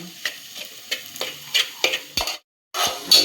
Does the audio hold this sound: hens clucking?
no